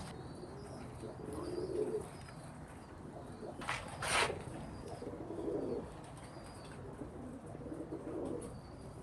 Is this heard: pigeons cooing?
yes